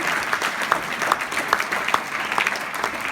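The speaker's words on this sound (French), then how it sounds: "Vous avez mérité ces applaudissements." Audience applause at the close of a talk on RFID technology, a steady dense patter of many hands clapping throughout, moderately loud and even, with no speech on top.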